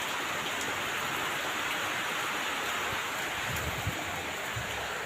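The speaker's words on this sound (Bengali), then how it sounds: "এখানে যে বৃষ্টি হচ্ছে" Steady rain pours down outdoors in West Bengal on a day someone sits frying fish in the open and gets soaked, a dense even hiss with faint drips, constant throughout and without voices.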